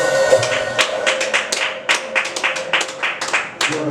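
Congregation in a church clapping in a steady run of sharp, irregular claps at close range, some voices mixed in underneath.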